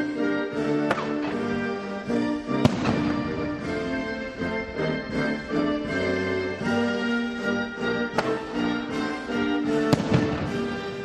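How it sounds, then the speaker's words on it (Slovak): Ceremonial gun salute at a Second World War memorial ceremony in Rožňava, Slovakia: several loud, sharp shots spaced seconds apart ring out over steady tonal music. "Práve takéto výstrely začali celý slávnostný akt."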